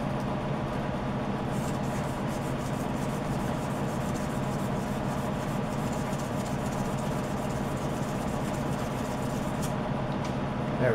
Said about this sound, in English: I'm going to get a piece of sandpaper